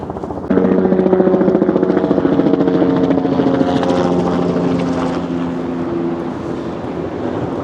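A loud helicopter roars steadily with a rhythmic rotor chop over Jersey City, starting abruptly and gradually easing as it passes, with no talking.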